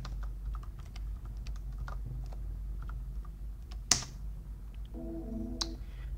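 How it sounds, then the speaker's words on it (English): Password keystrokes on a computer keyboard at a login prompt: a run of quiet, soft clicks spread over several seconds, fairly close and alone, with a couple of louder sharp clicks. "Let me type in my password right now."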